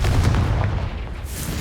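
Confringo fire spell explosion in Hogwarts Legacy, a loud continuous booming blast with rumbling low end, heard alone without speech.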